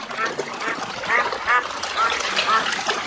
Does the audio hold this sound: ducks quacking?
yes